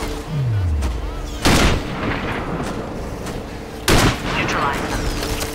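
Sniper rifle shots in the Sniper Ghost Warrior video game: two sharp, loud reports a few seconds apart, each with a booming tail that echoes, over a low game background.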